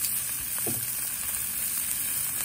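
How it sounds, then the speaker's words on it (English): Filet mignon sears on a hot Blackstone griddle with a constant loud, even sizzle of frying meat and a brief clink partway through, with no talking. "I can flip them over. I'm going to move them to a new spot on the Blackstone."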